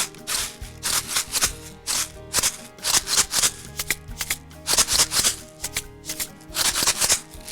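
A homemade shaker made from a plastic rice storage container, shaken in quick rhythmic bursts that give a loud, gritty rattling of grains, with short pauses between groups of shakes and no voices.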